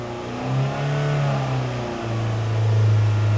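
A car engine is held at a steady high idle around 3,000 RPM, a continuous close droning hum with a slight rise in pitch near the end, with no talk over it.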